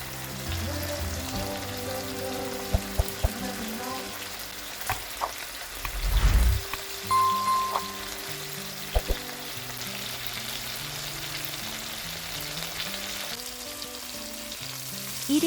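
Beef steak frying in a pan with a steady, close sizzle and crackle, and a few louder pops and stirring bumps partway through.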